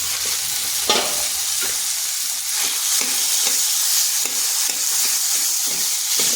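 Cauliflower sizzling loudly in a pan with melted tomato, a steady close frying hiss broken by soft scrapes and knocks of a spatula stirring, no voices.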